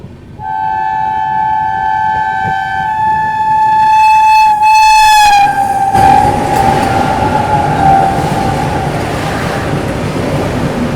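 A Meerut–Lucknow Vande Bharat Express passing alongside a train, sounding a long, loud horn that bends in pitch, followed by a roaring rush of the passing train.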